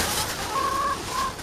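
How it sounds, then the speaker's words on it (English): Backyard chickens beside a raised garden bed give a couple of short, tonal squawks over steady outdoor background noise, moderately close and clear. "Oh, you noisy chickens."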